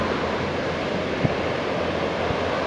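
Ocean surf along the shore at Santa Cruz, a steady, loud broadband roar of breaking waves and wind with no distinct surges, continuous throughout.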